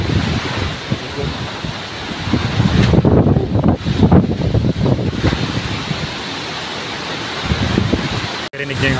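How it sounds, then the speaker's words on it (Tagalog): Strong typhoon wind roars across Camarines Sur, battering the microphone in heavy gusts that surge and ease over several seconds, loud and close. "Rinig niya yung hangin, grabe,"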